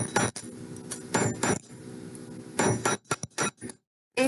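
Hammer blows from a crosshatch texturing hammer pounding a metal sheet for a mixed-metal pendant, sounding as a series of sharp, close clinking strikes in irregular bursts, several grouped together and then a quick run of shorter hits.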